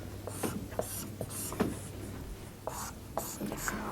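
A marker writes on a board in short scratchy strokes and taps, faint and close, under a teacher's quiet talk.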